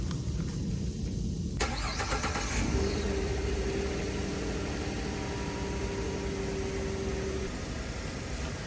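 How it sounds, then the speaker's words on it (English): A Ford F-150 pickup truck engine cranks briefly and catches, then settles into a steady, rumbling idle with a faint whine, close and fairly loud throughout. "I'm gonna go inside and start the truck"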